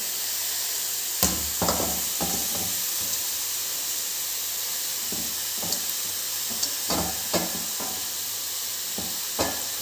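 Scraped drumstick (moringa pod) flesh stirred in a hot pan for a Kerala-style dish: a steady close sizzling hiss broken by several short scraping stirs of a spoon against the pan, with no voices.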